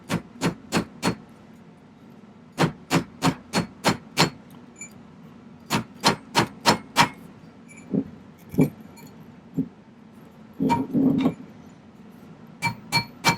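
A silver ring is hammered to bend it, with sharp metallic strikes in rapid clusters of four to six blows and short pauses between, close and loud against a quiet background.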